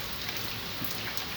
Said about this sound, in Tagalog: Ulan sa Saudi.